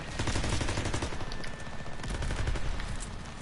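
Dense, continuous gunfire in a zombie video game, aimed at a zeppelin: rapid overlapping shots form a steady loud barrage with no breaks.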